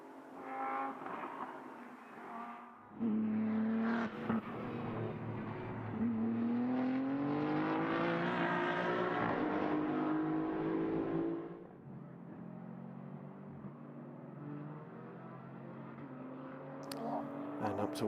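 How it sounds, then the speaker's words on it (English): A GT race car at Paul Ricard circuit roars down the Mistral straight, its engine note climbing steadily through the gears before dropping away, heard under a continuous commentator's voice. "Boisson heading down the Mistral for the final time"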